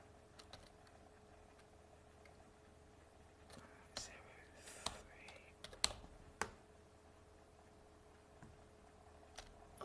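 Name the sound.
typing on a computer keyboard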